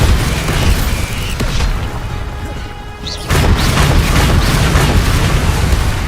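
Heavy booming crash of a Bombarda spell explosion in the Hogwarts Legacy video game, a loud blast amid busy combat noise, dipping briefly before another burst of impact.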